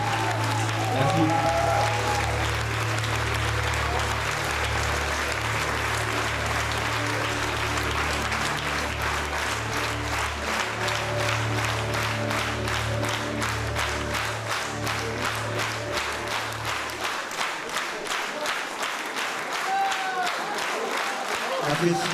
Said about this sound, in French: Apprécie ces applaudissements